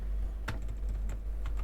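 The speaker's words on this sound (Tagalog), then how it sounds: "Kung kayo naghahanap ng talagang ultimate silent keyboard, ang ganda nitong Unicoma." Quick bursts of keystrokes on an Onikuma G80 wireless silent keyboard, soft muffled clicks arriving in an uneven rhythm close to the microphone.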